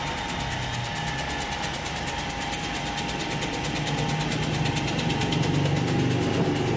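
A cassava chip machine running: a loud, continuous mechanical hum with a rapid, regular ticking beat, steady throughout and slightly building toward the end, with no voices.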